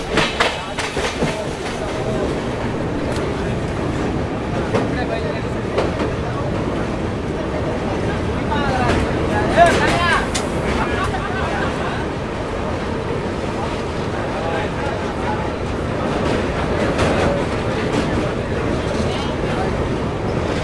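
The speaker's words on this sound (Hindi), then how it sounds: "तो अभी विजयवाड़ा जंक्शन से अपनी ट्रेन निकल चुकी है" The Thirukkural Express rolls along after leaving Vijayawada Junction, heard from inside a general coach as a loud, continuous rumble with rhythmic clickety-clack of wheels on rail joints and rattling carriage noise throughout.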